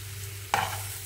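Cashews and raisins drop into hot ghee beside carrot halwa in a pan, a quick sizzling burst after a low steady hum, close and fairly faint, then settling into a gentle fry.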